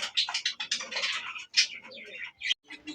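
Pigeons at a wholesale pigeon seller's, cooing and calling close by in short overlapping bursts with brief gaps, a few sharper chirps mixed in.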